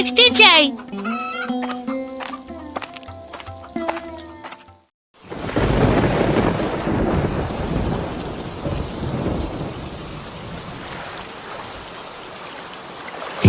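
A thunderstorm with heavy rain roars steadily over a riverside village, loud rumbling and hissing downpour following a brief burst of music, with chicken clucks and a voice faintly heard.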